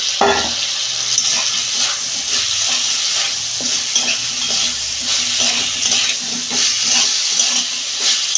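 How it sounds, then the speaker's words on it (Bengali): Soybean chunks, potato and kohlrabi fry in hot oil in a pan with a loud, close, continuous sizzle, broken by the regular scrape and clatter of stirring. "এর তেল ছেড়ে গেছে আমি সয়াবিন আলু আর ওলকপিটা দিয়ে দিচ্ছি"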